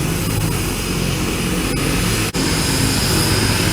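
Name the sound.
propeller airplane engine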